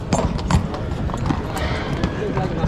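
Horse hooves clip-clop at a Tashkent horse market, a quick uneven run of close knocks over a busy crowd of voices and market bustle.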